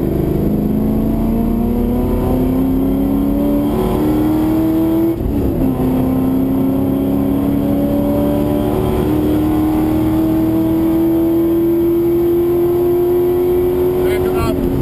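A V8 race car circuits Pukekohe in Auckland, its engine droning loud and steady with the pitch climbing gradually through the gears, a short dip around a shift, heard from inside the cabin with wind and road rumble.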